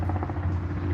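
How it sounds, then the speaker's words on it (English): A helicopter passes overhead outdoors on a hot day, its steady low rotor drone loud and continuous with no talking. "I got helicopters, boats, and all kinds of things going by here"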